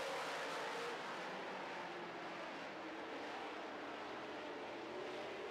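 Late model stock cars race around a dirt oval track in a feature event, their engines a steady, far-off roar with no clear lulls or individual passes.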